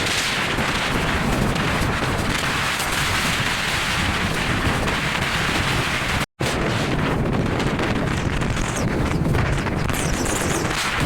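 Strong storm wind buffets the microphone around the Parabat Express intercity train, a loud, steady roar with rumbling low end that runs the whole time, broken by one brief dropout near the middle.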